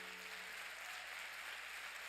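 A church congregation applauds in a steady, faint wash of clapping heard at a distance.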